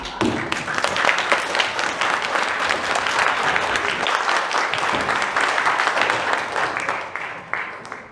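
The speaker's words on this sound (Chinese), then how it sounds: "来，热烈掌声啊！" Loud, sustained applause from an audience at a church fellowship Christmas party, filling the room continuously for about eight seconds before tapering slightly at the end.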